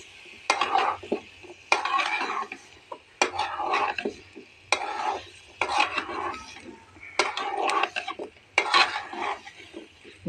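Pumpkin and prawns being stir-fried in a pan: a spatula scrapes and clatters against the metal in repeated bursts about every second, over a faint sizzle, close by and with no voices.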